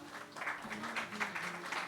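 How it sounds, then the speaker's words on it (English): Audience at a state and city logistics planning event applauding, a fairly even patter of many hands that swells slightly in waves. "A huge round of applause for her, please."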